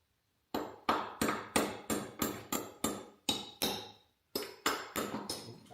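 A hammer taps an engine part during disassembly, about a dozen sharp, ringing metallic strikes in a steady rhythm with one brief pause, close and loud with no talking.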